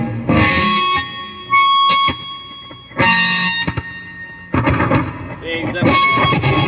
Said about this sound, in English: It's controlled feedback